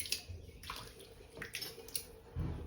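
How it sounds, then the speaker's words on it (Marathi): Goat tripe and intestines being washed by hand in water, with soft splashing, trickling and sloshing in short uneven bursts and a heavier splash near the end, fairly quiet and close. "आता आपण नाल्या साफ करूया"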